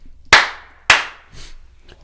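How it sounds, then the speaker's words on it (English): Two sharp, loud hand claps about half a second apart, each ringing briefly in the room, marking the start of a podcast episode, followed by a softer trailing rustle. "the double clap signifies the start of an episode"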